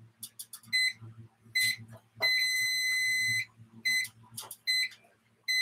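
A smoke detector sounds in loud, piercing electronic beeps, short bursts followed by one long sustained tone and more bursts, with a faint low hum underneath.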